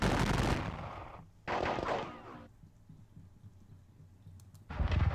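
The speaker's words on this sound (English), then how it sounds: "I'll fire all over the place." Troops fire guns in a Battle of Dennewitz strategy video game: three separate bursts of crackling volley fire, fairly quiet, with near-silent gaps between them.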